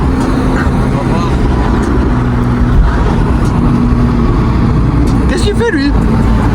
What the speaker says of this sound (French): pour vous faire écouter le bruit de cette caïman